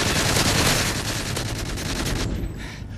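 Sustained rapid burst of light machine gun fire in a video game, loud and continuous with dense rattling shots, easing slightly toward the end.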